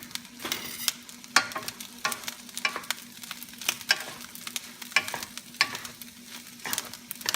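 Ham frying in a pan for Japanese fried rice, with a close sizzle broken by repeated, rhythmic scraping and stirring strokes against the pan.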